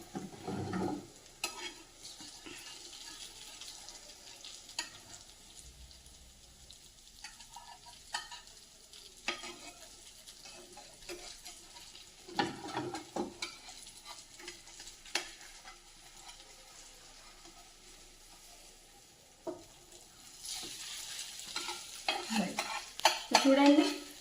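Maggi noodle and egg snacks fry in oil in a pan, a soft steady sizzle broken by repeated stirring scrapes, growing louder and busier toward the end, with no talking.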